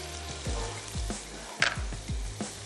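Capsicum and chicken sauté in a hot pan, giving a continuous close sizzle with soft stirring scrapes at a regular rhythm. There is no speech.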